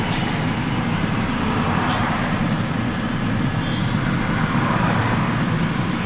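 Continuous road traffic heard from inside a truck cab near the Madhavaram roundabout in Chennai at night, a loud, steady low rumble of engines and passing vehicles with no pauses.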